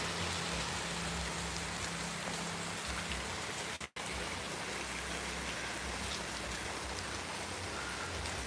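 Steady rain falling outdoors, a dense, even hiss of drops on surfaces that holds constant throughout, broken only by a brief dropout near the middle. No voices.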